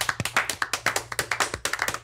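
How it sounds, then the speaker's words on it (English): A few people clapping loudly on a podcast, sharp individual hand claps in an uneven quick rhythm, close and distinct rather than a blended crowd. "Can we just give a really obnoxiously loud round of applause for one?"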